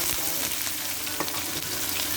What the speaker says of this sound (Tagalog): We're gonna add onions.